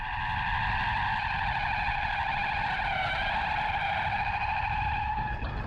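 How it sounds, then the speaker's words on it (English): A Kia EV6 GT electric car drifting, its tires skidding and squealing continuously in loud, wavering tones over a rough roar of rubber on pavement, sustained without a break. "Watch how happy the GT is to destroy tires in short order."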